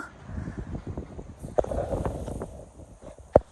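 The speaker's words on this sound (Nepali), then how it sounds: "आम्मा कस्तो साह्रो हावा चलेको क्या" Gusty wind rushes and buffets against the microphone, with a couple of sharp knocks, and large leafy greens rustling in the blowing air.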